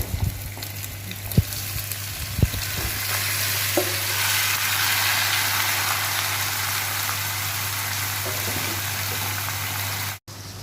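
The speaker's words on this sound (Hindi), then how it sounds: "हमने जो मैरिनेट किया हुआ मटन है उसको भी ऐड करके थोड़ी देर के लिए फ्राई कर देंगे" Marinated mutton frying in a pan with browned onions, a steady close sizzle with a few stirring clanks early on, continuing evenly until a brief cut near the end.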